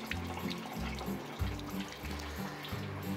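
Boiling water pouring steadily into a pot of rinsed rice for peas palaw, a continuous close splashing gurgle with rhythmic low pulses as the stream fills the pot, no talking over it.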